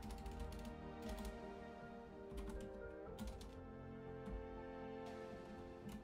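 Computer keyboard keys clatter in quick, irregular bursts of clicks separated by short pauses, close and fairly crisp against a low background hum.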